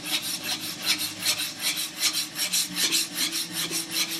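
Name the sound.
plane iron being sharpened by hand on coarse stone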